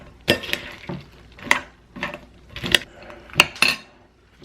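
Turkey stuffing mixed in a bowl with a utensil, a series of separate clinks and scrapes against the bowl, close and fairly quiet, with a little faint voice between them.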